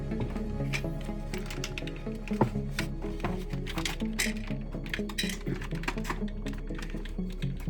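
Plastic parts of a DX9 Gewalt Blitzwing transformer toy clicking and snapping as arms are untabbed and pieces folded out, a dense run of small sharp clicks and taps close by.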